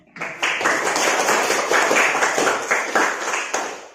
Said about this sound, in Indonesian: kita semua tepuk tangan dulu